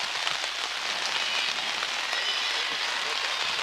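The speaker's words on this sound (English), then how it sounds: "Rain picking up once again at D&M Park." Steady rain falls on an outdoor softball field during a college championship game at D&M Park, a dense, even hiss of drops on surfaces close by, with no talk.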